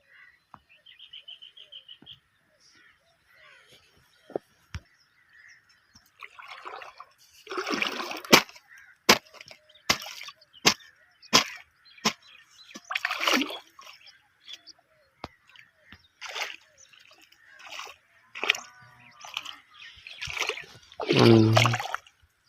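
Irrigation water flowing into a wheat field, a trickling, gurgling stream heard in bursts with splashes and dribbles, moderately close, with a few scattered sharp knocks and brief voices in the background.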